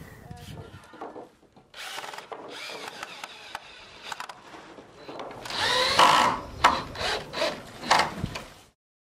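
A power drill drives screws into wooden spars on a summerhouse shed frame, with whirring bursts that grow louder and closer toward the end, mixed with rubbing and handling of timber.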